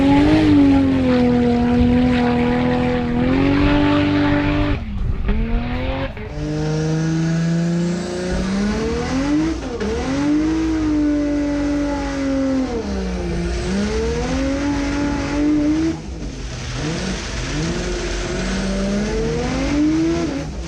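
A 1400-horsepower twin-turbo V8 Jeep roars loud and close down a standing half-mile strip, its engine note climbing through sustained high-revving pulls with brief dips between gear shifts.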